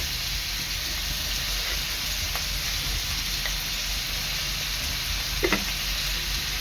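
Finely chopped onion with salt frying in a pan, giving a steady close hiss and sizzle throughout, with a few small pops and a brief clatter near the end.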